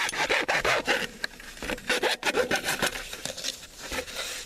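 Corrugated drain pipe for a French drain being sawn through outdoors, a close, loud run of rapid back-and-forth rasping strokes with brief pauses between bursts.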